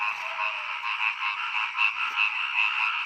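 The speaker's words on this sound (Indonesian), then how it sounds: "bertasbih bersama kodok-kodok yang ada di sawah ini" Frogs croak in a rice field, a thick, continuous chorus of rapid pulsing calls that swells and dips slightly without pause, fairly near, with no voices.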